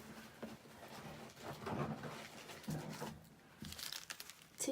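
Packets of tissues crinkle and rustle as they are handled, in irregular bursts of crackling close to the microphone, with a few louder handling thumps and no talking.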